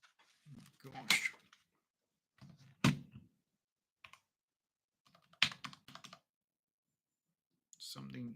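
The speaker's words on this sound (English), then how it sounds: "Something is going crazy with my keyboard right now." Typing on a computer keyboard that is misbehaving after a drink was spilled on it, heard as scattered bursts of clicks and clacks with gaps of silence, close and fairly quiet, with a voice breaking in now and then.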